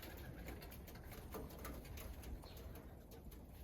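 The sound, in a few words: pigeons cooing in an abandoned building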